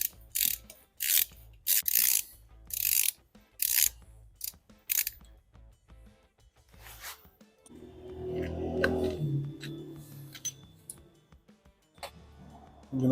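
A ratchet loosens 16mm bolts on the transfer case actuator motor of a 2005 BMW X3, giving several bursts of quick clicking with pauses in between. Some rustling and metallic handling noises follow.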